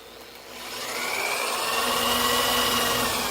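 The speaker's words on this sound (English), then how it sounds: "We have the 1/4 inch drill bit in the drill again." A steady, loud motorized whine rises and holds, a power drill with a 1/4 inch bit running continuously up close.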